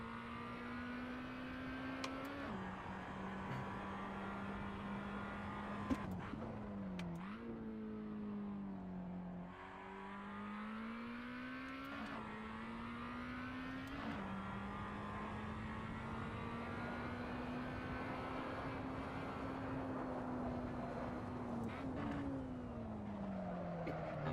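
Race car engine in Assetto Corsa community racing, revving steadily with pitch climbing through gears and dropping sharply on several downshifts, loud and continuous throughout.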